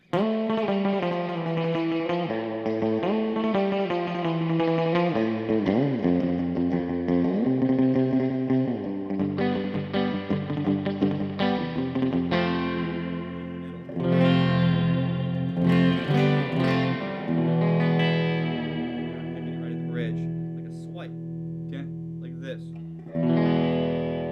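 An electric guitar plays a twangy surf-style riff with reverb and echo, sustained chords and quick picked runs, loud and close throughout.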